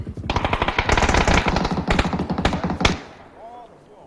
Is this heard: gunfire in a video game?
yes